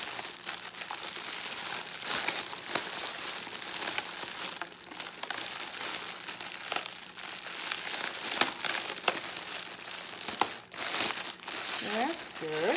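Dollar Tree cellophane crinkles loudly as it is gathered around a gift basket, with dense, irregular crackling bursts throughout and a person speaking at times.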